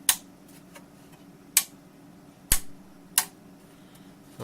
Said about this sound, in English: it's funny, it's the same company switch, they don't make the same sound